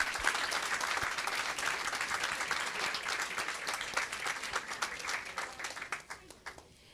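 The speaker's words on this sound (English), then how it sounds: "One more round of applause." An audience at a school board meeting applauds students for national rankings; steady, crisp clapping from many hands holds for several seconds, then thins and tapers off at the end.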